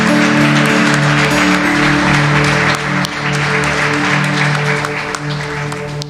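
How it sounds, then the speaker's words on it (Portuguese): A church congregation claps loudly in praise during a Sunday service, producing a steady, full wash of applause over a low sustained organ or keyboard tone that continues underneath from start to finish. "dê uma salva de palmas ao Senhor Jesus"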